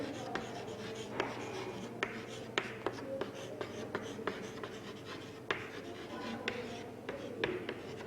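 Chalk or a marker taps and scratches across a classroom board in short irregular strokes, with sharp clicks standing out above a low steady hum.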